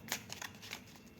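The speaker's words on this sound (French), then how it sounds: "Je vais prendre une autre carte." A playing card drawn from a deck during an oracle card reading, a quick papery swish and a few soft slides and flicks, close and quiet.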